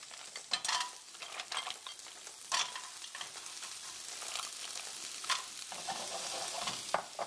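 Mussels hit a hot pan of sautéed ginger, garlic and onions for Indian steamed mussels, giving a steady, crackling sizzle broken by scrapes and clatters of stirring, with no talk.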